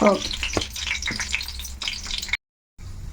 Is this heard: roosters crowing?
no